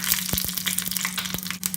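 Dried red chilies and mustard seeds fry in hot oil for a Kerala-style sweet and sour mango curry: a dense, steady sizzle with sharp crackles and pops, close and alone.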